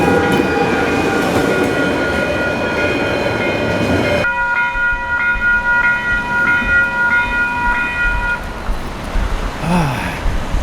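A train passes close by in a town street with backed-up traffic: a loud rumble of rail cars that cuts off abruptly and gives way to a ringing crossing bell, with faint traffic behind.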